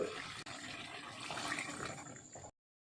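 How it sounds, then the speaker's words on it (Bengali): Water being poured into a cooking pan holding pointed gourd, potato and curd, a steady splashing pour lasting a couple of seconds, close and fairly loud, with a brief break near the start and then a sudden stop. "এবার দিয়ে দেবো 1 কাপের মতো জল।"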